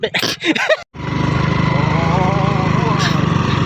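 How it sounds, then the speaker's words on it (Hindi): A scooter engine drones as it climbs an off-road mountain road near Keonjhar, a loud, close, rapidly pulsing putter that follows a brief burst of speech. "अबे स्कूटी वाला बहुत तेज चला रहा है,"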